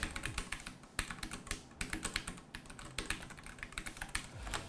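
Rapid, crisp keystrokes on an RK mechanical keyboard, typed close up in an uneven rhythm with no talking.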